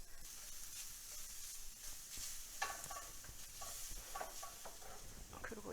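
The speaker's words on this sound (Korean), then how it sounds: "이 아보카도 오일을 좀 넣으시고요. 팬이 달구어졌거든요" Garlic sizzles in hot avocado oil in a preheated pan, a soft, steady hiss with scattered crackles and light scraping of a utensil, fairly quiet and with no one speaking.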